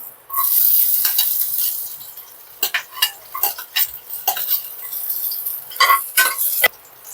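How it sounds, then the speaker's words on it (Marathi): Garlic sautéing in hot oil in a pan for a homemade pasta, a steady bright sizzle with intermittent sharp clicks and scrapes of stirring, close and fairly loud, no voices. "लसूण थोडासा परतवला"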